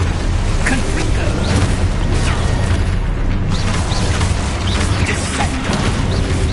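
The Confringo blasting spell explodes repeatedly in Hogwarts Legacy combat, a dense, loud wash of booms and crackling impacts with voices mixed in across the whole stretch.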